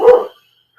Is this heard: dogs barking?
yes